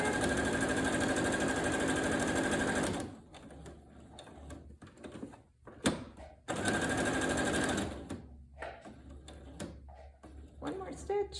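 A sewing machine stitches fabric for a wrist wallet in two loud, rapid mechanical bursts of about three seconds each, separated by quieter pauses with light handling clicks and thumps.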